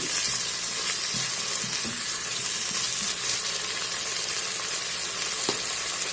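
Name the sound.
chicken sausage sizzling in pot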